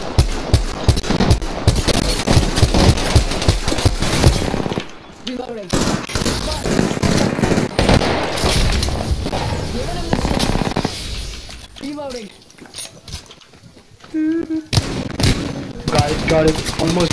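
Rapid automatic gunfire bursts in the Apex Legends video game, loud and dense through the opening seconds, then sporadic shots under excited voices talking.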